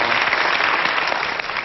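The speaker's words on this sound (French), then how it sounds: "On applaudit." A television studio audience on a French broadcast bursts into dense, continuous applause, loud and even across the whole moment.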